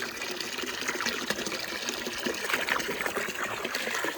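Water pours from a cut-off 20-litre canister onto the root of a grapevine in spring, a continuous splashing trickle and gush that stays close and fairly loud throughout, with no voices.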